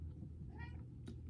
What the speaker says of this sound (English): My cat wants to say